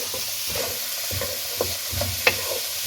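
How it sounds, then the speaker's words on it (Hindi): Onion, carrot and capsicum stir-frying with garlic for chicken egg fried rice, a steady close sizzle punctuated by rhythmic scraping stirs and a few sharp metallic clinks. "अब सब्जियों को इसमें फ्राई करें।"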